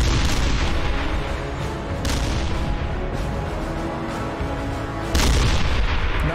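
Tank cannons fire in battle: heavy booming blasts land at intervals, one about every couple of seconds, over a dense rumbling din of combat.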